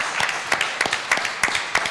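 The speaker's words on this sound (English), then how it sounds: "let's first of all give the Rainbow Push another big round of applause" Audience applause at a Rainbow PUSH Coalition Haitian Independence Day gathering, a steady run of sharp rhythmic claps, fairly close and even.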